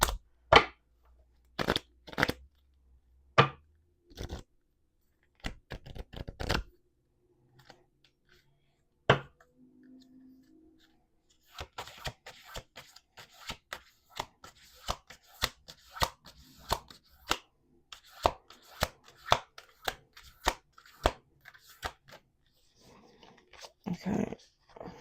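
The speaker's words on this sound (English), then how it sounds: "We're gonna do 1 more shuffle because there's like 1 set of cards where it like snags." A deck of cards is handled and shuffled, with one set of cards prone to snagging. Sharp, scattered clicks and snaps come first, then a denser run of crisp riffling taps, all close and alone in a quiet room.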